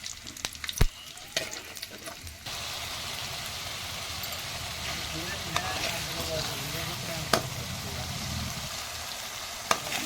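Crushed garlic paste and green chillies hit hot oil for tempering, bursting into a loud sizzle after a few sharp clinks, then frying steadily with occasional spoon taps.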